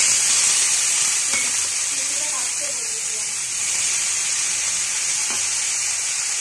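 Potatoes and eggplant fry in hot oil with salt and turmeric, giving a continuous hissing sizzle, while a voice is faintly heard partway through.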